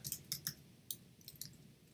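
A command is typed on a computer keyboard, a short quiet run of separate key clicks at an uneven pace, close and alone.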